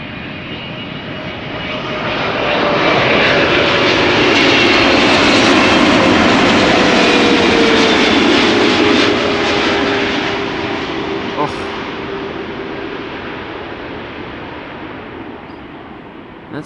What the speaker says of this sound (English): That sound those GE90s of the freighters and the 300s make when they pass you by